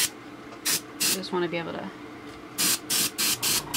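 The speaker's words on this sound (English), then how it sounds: "I'm just going to lightly spray in certain sections." Airbrush spraying iridescent violet paint onto a custom Nike Air Force 1 sneaker, short repeated hissing bursts in quick succession, with a nearby voice speaking briefly between sprays.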